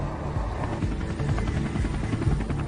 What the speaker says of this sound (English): 30-year-old Army pilot David Williams flies his Apache attack helicopter toward Karbala, a key access point to Baghdad.